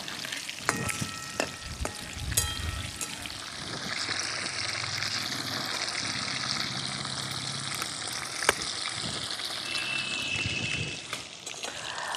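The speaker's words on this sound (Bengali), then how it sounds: "মাছগুলো এবার লাল লাল করে ভেজে নেব।" Pieces of chitol fish frying in mustard oil, a loud, steady close-up sizzle that continues throughout with occasional spatters and clinks.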